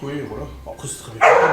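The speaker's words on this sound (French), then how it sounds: "Mais ça, c'est le chien que Stevie garde." A pet dog being looked after by a friend barks a few times in a room, mixed in with nearby French conversation, with a louder burst near the end.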